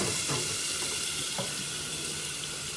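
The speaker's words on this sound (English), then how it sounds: "Oh my God, there it goes, sizzling." Chopped onions frying in hot oil in a pan give a steady, close hiss and crackle with small bursts of spitting, continuous and fairly quiet, no voices.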